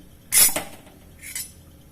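A spoon scrapes and clinks against a pot while rice and urad dal are stirred, one bright metallic clatter followed by a softer scrape a second later, close and brief.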